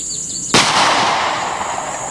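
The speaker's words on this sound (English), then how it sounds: "Let's see how much penetration we get from the Hornet XTP bullet." A single sharp, loud .44 Magnum gunshot firing a Hornady XTP bullet into stacked 1-inch wooden boards, a hard crack followed by a lingering ringing decay.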